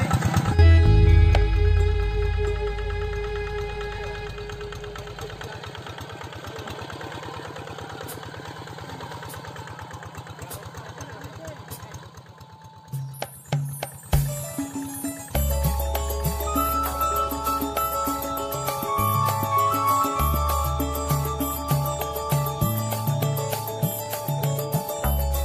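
A hand tractor's engine runs steadily up close, loud and rough at first, then its pitch and load shift partway through into a heavier, pulsing chug.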